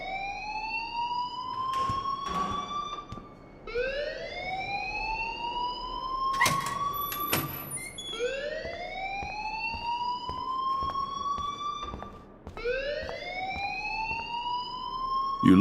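A rising, wailing alarm from the video game Life is Strange repeats in long sweeping cycles of about four seconds each, loud and steady, with a few short clicks and knocks underneath and no talking.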